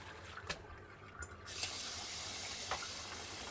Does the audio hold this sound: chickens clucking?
no